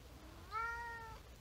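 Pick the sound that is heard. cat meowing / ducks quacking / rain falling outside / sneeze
cat meowing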